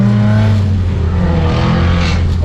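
A Honda K20A2-engined car pulls hard in first gear, its loud steady engine drone climbing in pitch for a couple of seconds with a raspy exhaust edge, close and continuous, no talking.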